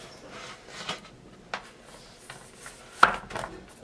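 Baked apple tart turned out of a glass baking dish onto a wooden board, a few soft knocks and scrapes of glass and wood, with one sharper clack near the end, quiet and close.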